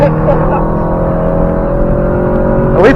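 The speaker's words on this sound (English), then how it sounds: "Sick BMW, bro." A BMW car drives past on the Tail of the Dragon mountain road, its loud engine droning steadily and close before rising sharply as it sweeps by at the end.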